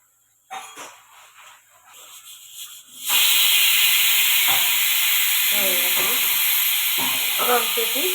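A pressure cooker holding stuffed brinjal curry on a low gas flame lets out a loud, steady hiss of escaping steam that begins suddenly and continues unbroken, with faint clinks and a brief voice-like sound underneath.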